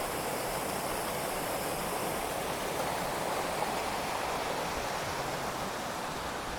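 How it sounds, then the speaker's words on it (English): Steady, loud rush of a waterfall dropping from high above near Anini, India, a continuous broadband roar with no pauses, nearby and alone. "So this is a waterfall coming straight from the top."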